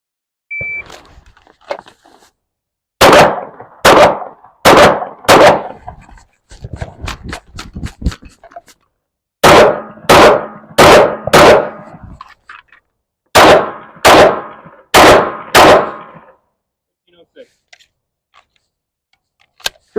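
MK18 rifle fired during a shooting run, sharp loud single shots in irregular bursts and pairs with short pauses, ringing out sharply and close, followed by quieter fainter clicks near the end.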